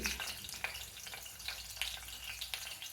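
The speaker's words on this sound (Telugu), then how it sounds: "పచ్చిమిరపకాయలు ఇట్లా చీలికలు చేసి వేసాను" Slit green chillies fry in three tablespoons of hot oil over a low-medium flame for mutton masala, a steady soft sizzle with faint crackles and pops throughout, no talking.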